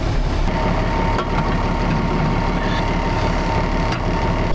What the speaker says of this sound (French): le bruit de ce tracteur à froid, il est incroyable